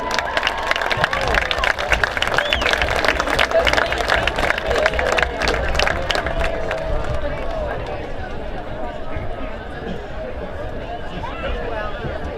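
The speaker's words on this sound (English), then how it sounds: "Please give them a final round of applause." Crowd at a high school football game applauds and cheers for the 2024 homecoming court, a dense wash of clapping and voices that stays steady, then eases slightly toward the end.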